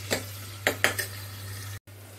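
Chopped onion sautéed in hot desi ghee, a low steady fry hum broken by three or four sharp metal clinks of a ladle against the pan, close by, with a brief dropout near the end.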